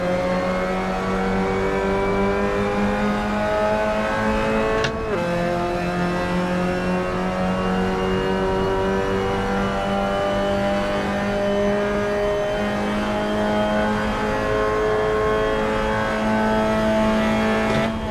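Race car engine in a racing video game, loud and close, holding a steady high drone through successive gear changes with one abrupt shift partway, without any talk.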